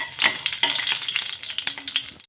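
Tempering spices sizzle in hot oil in a pan for semiya rava upma. The crackle is loud and continuous, with bright spits and pops, and stops abruptly at the end. No voices.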